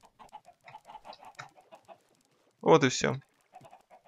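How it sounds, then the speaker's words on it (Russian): A Minecraft chicken gives one short, loud clucking squawk in a video game, with someone talking quietly before and after it. "сваливаем туда куриц в огромном количестве"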